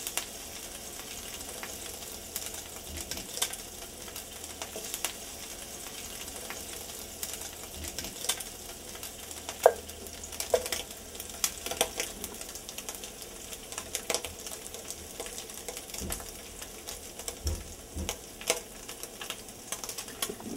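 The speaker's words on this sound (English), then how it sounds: "So let your pancetta fry up a little bit." Pancetta fries in a pan with a steady, faint sizzle and occasional crackles and pops throughout, no talking.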